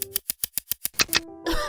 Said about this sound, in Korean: 미안한데 기침 좀 참으면 안 돼?